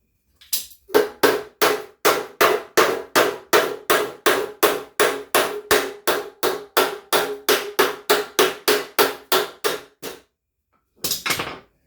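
Steady hammer blows on a Chevy squarebody truck's dented roll pan, about twenty-five sharp metallic strikes in an even rhythm, loud and close, then a pause and a brief final burst.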